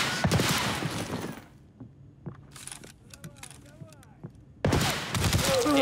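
Gunfire in Escape From Tarkov, with a scattered burst of sharp shots and metallic clicks between loud stretches of excited talking.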